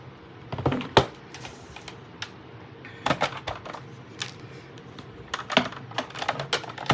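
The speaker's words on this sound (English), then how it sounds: "Now I'm going to pull back in my die cut machine." A manual die cut machine is cranked while crafting a gift card bag, giving a run of close, irregular clicks and ratcheting clacks in bursts, with quiet pauses between them.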